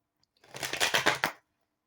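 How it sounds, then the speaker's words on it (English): Tarot cards are riffled back into the deck in one quick burst of rapid fluttering clicks, close and fairly quiet, lasting about a second between stretches of silence. "Let's shuffle those back in the deck"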